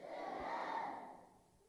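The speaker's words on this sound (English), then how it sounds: "Clap those hands and shout fire." A church congregation shouting fire together, a swelling collective roar that rises and fades over about a second and a half, somewhat distant.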